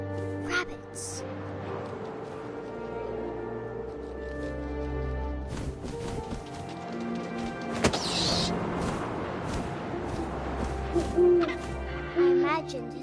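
In the video game What Remains of Edith Finch, an owl's soft hoots sound over wind and game ambience, with a narrating voice heard intermittently.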